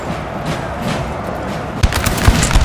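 Musket volleys crack out in a Napoleon Total War multiplayer winter battle, with a steady wash of distant battlefield noise followed by a few sharp, loud shots bunched near the end.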